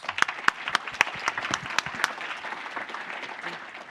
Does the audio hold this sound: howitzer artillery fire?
no